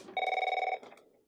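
An AT&T Merlin office telephone rings once in a close, loud electronic trill with a fast warbling pulse lasting about half a second, then stops and leaves a short fading tail.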